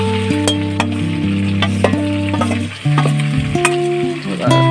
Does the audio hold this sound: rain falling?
no